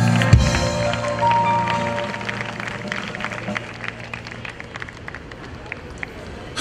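An audience at a singing contest grand final applauds a judge, a Coke Studio singer, with a burst of clapping and crowd noise that trails off amid a little murmuring, while background music plays.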